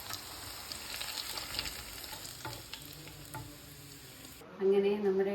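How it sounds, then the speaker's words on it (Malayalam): Chicken pieces fry in hot oil, giving a soft continuous sizzle and crackle at low level, which fades before a louder brief clatter at the end. "വറുക്കാൻ ആവശ്യമായ എണ്ണ ഒഴിക്കാം. എണ്ണ ചൂടായതിനു ശേഷം മാത്രമാണ് നമ്മൾ ചിക്കൻ ഇടണം."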